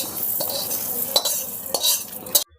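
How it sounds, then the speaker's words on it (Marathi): Coriander seeds dry-roasting in a pan, stirred with a utensil that scrapes and rattles the seeds in bursts over a soft sizzle, close and fairly loud, ending abruptly, with no talking. "धने चांगले भाजून झाले की ते काढून घ्यायचे."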